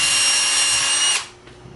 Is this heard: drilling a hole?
yes